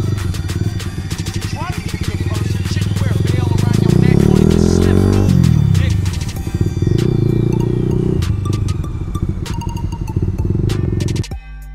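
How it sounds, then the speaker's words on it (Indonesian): Many motorcycles ride along a road, their engines loud and close, with sweeping pass-bys and droning revs overlapping across the whole stretch. "Banyak motor di sini, aduh."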